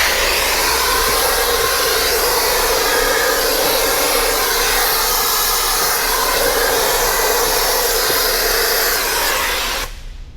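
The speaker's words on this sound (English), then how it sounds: "I'll take my vacuum and I'm going to go ahead and clean out all that dirt." A loud, steady vacuum roar runs continuously, close up, cleaning dirt from the air filter box of a Mk1 VW Tiguan, then cuts off abruptly at the end.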